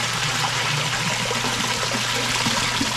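Water pours and splashes steadily as live tilapia are tipped from a container into a net, a continuous close rush and trickle with no talk.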